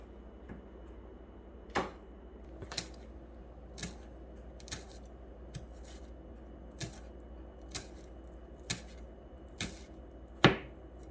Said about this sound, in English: we are going to chop it very fine